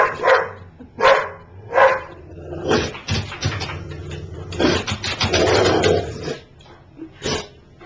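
A dog stands at the top of a flight of steps, stomping and growling, with loud, close bursts of rough barks and growls repeated in uneven rhythm.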